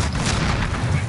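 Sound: explosive charge detonating in the video game Rainbow Six Siege

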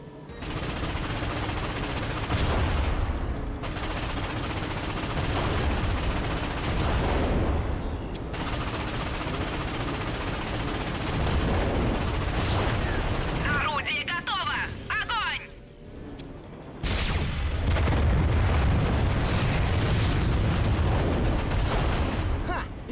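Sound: ion cannon firing and explosions, Ratchet & Clank video game

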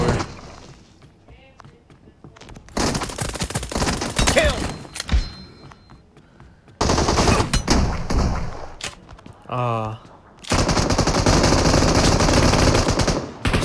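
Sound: M24 rifle gunfire in the video game Zoo Squad

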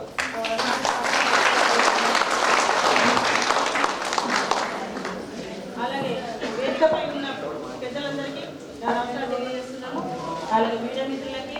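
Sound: audience applause welcoming the MLA

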